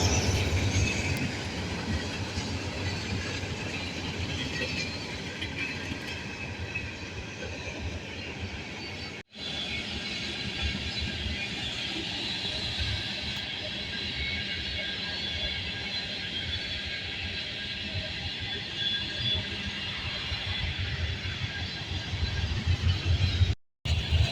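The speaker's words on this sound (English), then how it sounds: "14N is a manifest train from Elkhart, Indiana to Conway, Pennsylvania." A long manifest freight train rumbles past steadily at close range in Ohio, with continuous rolling noise and faint wheel squeal, no talking.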